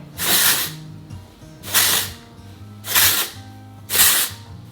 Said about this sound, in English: hit it one last time with this Texturizing Spray